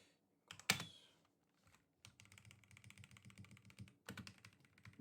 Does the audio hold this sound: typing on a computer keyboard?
yes